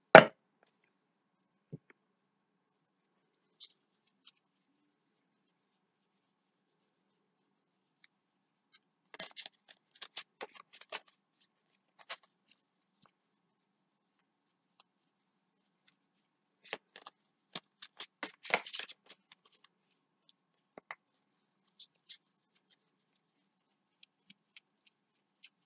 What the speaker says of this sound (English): So I'm going to shuffle on camera with you.